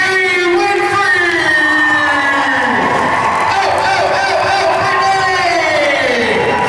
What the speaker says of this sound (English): let's give her a round of applause, Miss Brittany Winfrey.